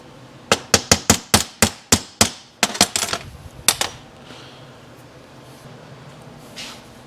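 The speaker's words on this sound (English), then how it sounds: "where the hell did my hammer go?" A hammer knocks a roll pin out of the bar oil pump of a Stihl 044 chainsaw. About a dozen sharp, evenly spaced metallic strikes ring out close by, then a few looser taps trail off into quiet workshop ambience.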